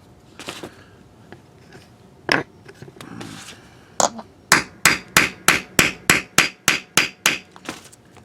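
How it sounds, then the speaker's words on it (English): Repeated sharp metallic hammer blows on a hollow punch driven through tough webbing on wood, a few scattered strikes then a steady run of about ten evenly spaced hits, loud and close. "you want to put it right in the center and beat it with a hammer"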